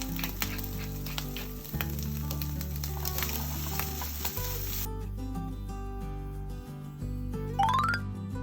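Onion and bacon fry steadily in a pan with a close, even sizzle that holds throughout, ending with a few light scraping and clinking touches and no talking.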